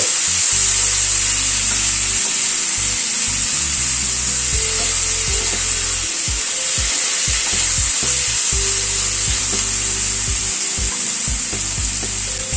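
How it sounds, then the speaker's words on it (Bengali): Chicken being stir-fried with onion and capsicum in a pan: a loud, constant sizzle with the repeated scrape and knock of a spatula against the pan, and no talking. "চিকেনটাকে মিশিয়ে নিচ্ছি পেঁয়াজ ও ক্যাপসিকামের সাথে।"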